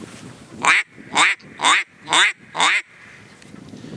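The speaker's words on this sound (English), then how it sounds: "what you want to build up to with your quack is 5 quacks in a row, like this" A duck call blown in a run of five sharp, evenly spaced quacks, loud and close with no talking, followed by quiet.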